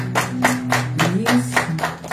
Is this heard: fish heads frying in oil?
no